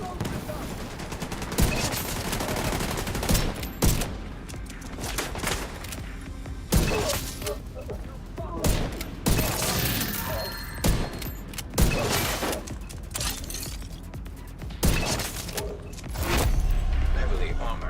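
Sustained hostile gunfire in The Division 2 shooter game: dense bursts and automatic fire crackling loudly and nearly nonstop, with booms and thuds mixed in and someone talking over the din.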